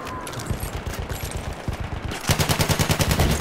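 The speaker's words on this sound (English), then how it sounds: "MG, feindlich!" Enemy machine gun fire in a video game rattles in loud, rapid bursts, thickening into a dense, rhythmic stream of shots near the end.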